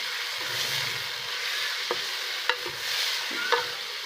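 Onions fry and sizzle in a pan for achari chicken curry while a spoon stirs them, a steady soft hiss broken by a few sharp scraping clicks, close up with no talking.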